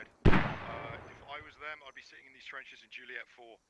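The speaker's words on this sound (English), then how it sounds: "Dwarf is going to throw some mortars at these guys." A single loud, close mortar blast in the military shooter game Squad, a sharp broadband boom that rings briefly and fades, followed by someone talking over the quieter aftermath.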